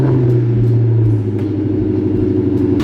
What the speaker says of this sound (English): We popped in a new battery and the car finally starts.